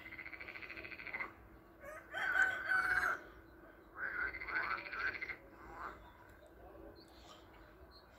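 Frogs croaking at a neighbouring property, a steady close chorus of repeated croaks in two main bursts over faint background noise, with no talk.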